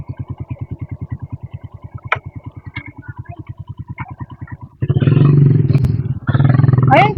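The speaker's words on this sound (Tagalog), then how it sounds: "siguro motor ng tatay mo" A motorcycle engine idles with a fast, even putter, then revs up loudly into a rough roar in two bursts, near and dominant, with a few faint clicks and clatter in between.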